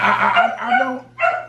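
A small puppy barks and yips in quick bursts, loud and close, with whimpering edges and a short pause before a final burst.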